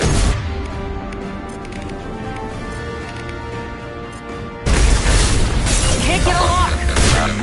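Gunfire and weapon blasts from the Mass Effect video game, a loud dense burst of booming impacts filling the second half after a steady, busier stretch of game sound with voices and music underneath.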